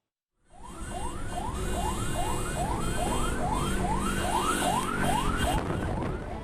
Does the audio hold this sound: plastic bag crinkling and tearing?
no